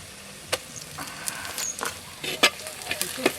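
Green chili, ginger, garlic and cumin powder hit hot oil for an oyster masala curry, giving a soft steady sizzle broken by sharp stirring scrapes and clicks close by.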